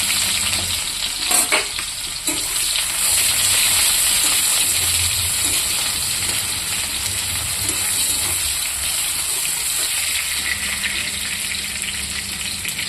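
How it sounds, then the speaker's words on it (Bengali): Onions fry in hot oil in a wok, a loud continuous sizzle with bursts of stirring, steady throughout and close up. "তেলটা গরম হয়ে গেছে। আমি এখানে পেঁয়াজটা দিয়ে দেবো।"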